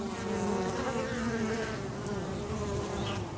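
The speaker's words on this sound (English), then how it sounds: "you can see that bee on the entrance right there" A dense, continuous buzz of many honeybees at a hive entrance in March, a steady droning hum close by with no voices.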